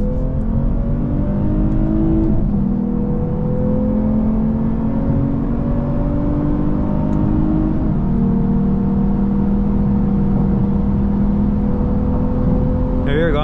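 A 2023 Lexus IS 350 F Sport AWD engine hums steadily and climbs in pitch as it accelerates, with gear changes dropping the tone briefly; a continuous, close interior drone.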